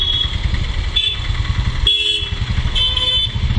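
A Royal Enfield Classic 350 on new Michelin tyres rides along with a steady, loud, close thumping single-cylinder engine, and a horn-like tone briefly cuts in near the middle.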